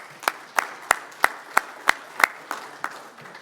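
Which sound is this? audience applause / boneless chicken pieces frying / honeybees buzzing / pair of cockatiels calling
audience applause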